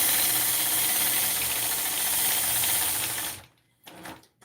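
A sewing machine stitches during ruler quilting, its needle running in a steady, fast mechanical rhythm for about three seconds before it stops abruptly, with a few faint handling knocks afterward.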